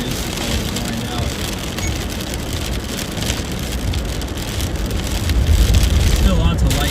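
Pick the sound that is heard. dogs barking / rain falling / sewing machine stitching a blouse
rain falling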